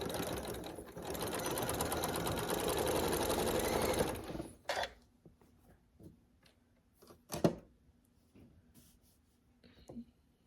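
A sewing machine stitches together fabric strips for a quilted fall table runner, running steadily with a fast whirring hum for about four seconds, then stops, followed by faint, scattered handling clicks and rustles.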